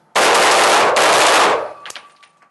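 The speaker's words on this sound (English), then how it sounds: "I'll try and shoot a couple of rounds now in a bad body position" A handgun fires a burst of rapid shots from a poor body position, loud and close, the blasts run together into a dense roar for over a second before echoing tails and a few faint clinks trail off.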